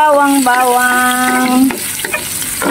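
Garlic frying in a home kitchen pan for pancit canton, a brief tonal sound at the start giving way to close, steady sizzling and a few stirring scrapes.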